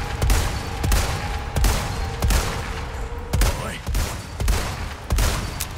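Rifle gunfire in Resident Evil 4 Remake: about eight loud, sharp shots in a steady, evenly spaced rhythm, each ringing briefly before the next.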